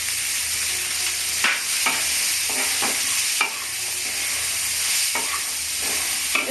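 Eggplant, peas and green chillies being stir-fried, a bright steady sizzle broken by several sharp spatula scrapes and knocks against the pan, no voices.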